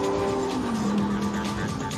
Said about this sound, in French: c'est bien entendu le bloc V10 blotti à l'arrière de cette énième Huracan